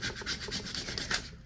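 Stencils are burnished onto a canvas sign with short, close rubbing strokes, a soft rhythmic scraping heard alone over a brief moment.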